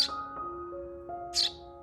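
A young sparrow gives two sharp, high chirps, one at the start and one near the end, close and fairly loud, over a faint steady tone.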